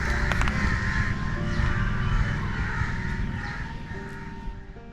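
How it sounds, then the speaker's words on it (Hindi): Crows cawing from dense trees at evening, with harsh, repeated caws over a steady din of other birdsong throughout, fairly close and loud. "शाम के वक्त घने पेड़ों पर परिंदों का शोर अब भी बुलाता है"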